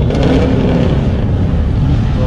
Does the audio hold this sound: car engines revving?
yes